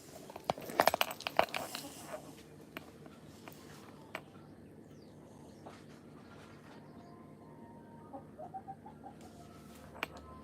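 A chicken in a garden gives a few soft clucks and pecking sounds, mostly near the start, over quiet outdoor background with faint wind and no talking.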